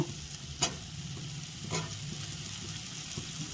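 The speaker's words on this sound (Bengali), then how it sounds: "আলুগুলো দিয়ে দিলাম ভাজা আলুগুলো" Fried potato pieces are added to a pan of fish curry with turmeric and salt, a faint, steady sizzle with a couple of soft clinks, heard alone and fairly quiet.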